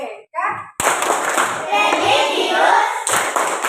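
A school class claps the rhythmic PPK clap pattern, loud and close, in a steady burst of many hands with children's voices mixed in after a brief spoken cue.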